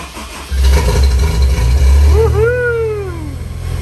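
Car engine cranking and firing up after the fuel pumps prime, a loud catch that settles into a running idle with a brief rising whine, close by with no talk.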